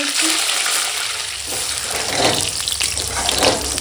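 Boiled eggs fry in hot oil in a pan, giving a steady broadband sizzle with some stirring and scraping noises throughout and no talk.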